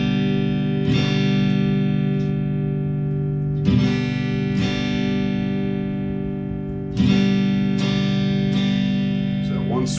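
A distorted electric guitar runs through an effects device, with sustained, buzzing chords struck several times and left to ring and decay, loud and close.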